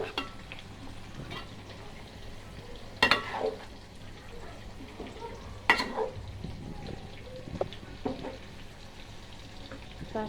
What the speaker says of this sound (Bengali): দেখুন শাকগুলো ভালো করে লাড়ে নিই।